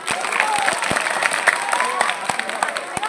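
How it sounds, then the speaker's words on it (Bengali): An audience at a school's West Bengal Day celebration breaks into applause, a dense patter of many hands clapping with sharp individual claps standing out, heard alongside voices and room chatter. "হাততালি কই?"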